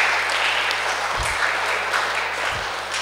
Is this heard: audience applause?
yes